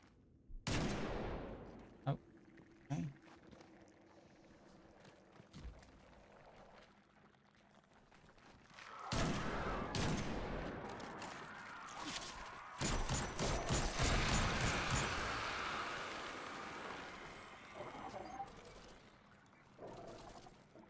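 Weapon fire in the video game Destiny 2, shown as a few sharp shots early on, then a loud, dense stretch of rapid sustained gunfire and explosive bursts through the second half.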